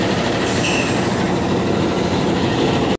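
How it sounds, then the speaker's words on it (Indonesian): KAI twin-cab locomotive train at a station, a loud, continuous rumble of rolling rail wagons with a faint high squeal, close and steady until an abrupt cut at the end. "Ini merupakan lokomotif andalan KAI ya, karena menggunakan 2 kabin."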